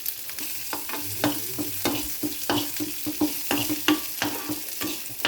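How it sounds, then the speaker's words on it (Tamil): Onions, mustard seeds and lentils frying in hot oil, with a crackling sizzle broken by frequent stirring scrapes and small pops, close and moderately loud, no voices. "செவந்ததுக்கப்புறம் வெங்காயத்தை போடுங்க."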